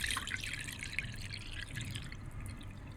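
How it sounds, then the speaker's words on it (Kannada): Water from a glass poured over washed barley grains set to soak, giving a soft, steady trickling and dripping splash close by for the whole stretch, with no talking. "ನೀರು ಹಾಕ್ತಿದ್ದೇನೆ."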